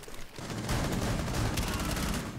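Dense, sustained gunfire in the tactical shooter Rainbow Six Siege: a loud, continuous volley of rapid shots that starts after a brief quieter moment and keeps going with no speech over it.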